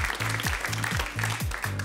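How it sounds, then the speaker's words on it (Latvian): An audience at a quiz contest claps for the competing teams, giving dense, continuous applause, with a rhythmic musical thump pulsing underneath. "Aplausus visām komandām!"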